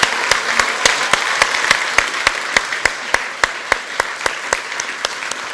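Big round of applause for keynote speakers at an ethics and leadership in sports summit: dense, steady clapping from a large audience, with sharp individual claps standing out at a regular beat throughout.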